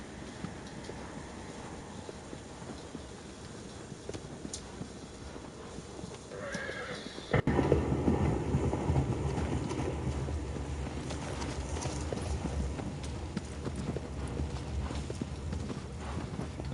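A horse gallops in the Shadow of the Colossus video game, its rapid hoofbeats drumming steadily under wind, with a neigh partway through, growing louder and more insistent after the middle.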